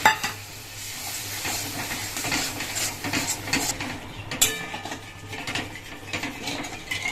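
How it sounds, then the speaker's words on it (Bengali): Coconut milk poured into a pan of frying spice paste for a malaikari, with a soft sizzle, scraping stirs and the clink of a utensil against the metal pan, close up, with one sharper knock midway. "আর এবার হচ্ছে দিয়ে দেব নারকেলের দুধ"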